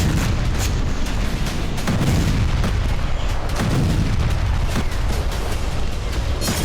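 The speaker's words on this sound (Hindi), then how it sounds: "ऐसा ही धमाका होम्स शहर में भी देखा गया" Heavy booming blasts and cracks from an attack on a military base near Homs, Syria roll through a constant roar of noise, several bursts landing in quick, irregular succession.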